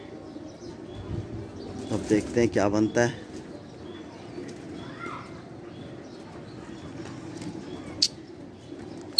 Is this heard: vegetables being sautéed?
no